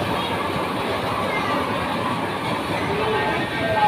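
A small children's ride-on train in a shopping mall rumbles and clatters steadily, surrounded by the busy hum of an indoor crowd.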